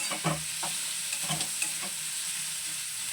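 Steady sizzling of rice and prawns frying together in a pan, with a few scraping stirs of a spoon near the start; no talking.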